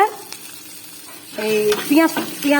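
Onion and green chilli frying in hot oil with cinnamon and gondhoraj lemon leaves, a steady sizzle with stirring scrapes that grows louder partway through, close and continuous, with a voice talking faintly beneath.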